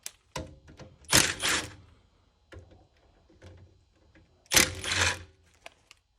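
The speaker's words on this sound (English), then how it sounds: "10mm bolt right here, and we are going to take those off. I'm just going to loosen these" A ratchet working loose 10mm bolts on a 2004–2009 Toyota Prius hybrid battery, close metallic clicking bursts with two longer ratcheting runs and scattered clinks between.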